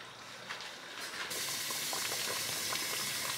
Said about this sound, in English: I'm gonna add the pitcher full of water, and I'm gonna add it into the broth as well